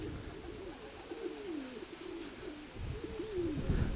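Pigeons coo in a repeated, rolling series of close, clear calls, with low handling or rustling noise underneath and no talking.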